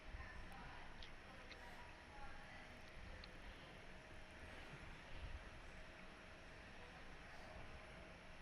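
A Malaysia Airlines airliner departs Perth airport, heard as a steady, broad jet engine roar from a distance that holds evenly throughout.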